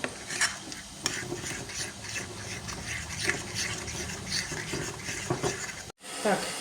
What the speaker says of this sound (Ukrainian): Так, все це змішуємо добре.